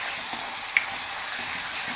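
Ginger-garlic paste sautéing in hot oil for a green pea usal, a soft, even sizzle with one tiny click partway through.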